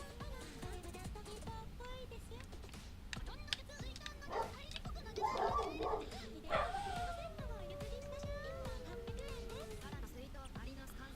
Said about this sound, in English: they're barking at fucking nothing!